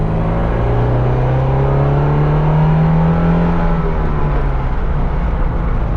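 A 1978 Alfa Romeo GTV with a 2-liter engine drives and revs, loud and close, its engine note climbing steadily then dropping back in a continuous run.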